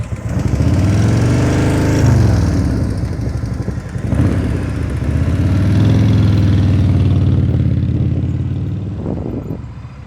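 A motorcycle engine rumbles during advanced slow-speed riding practice as the throttle eases out through a tight turn. The loud, close drone rises and falls in pitch with the revs, alone and steady throughout.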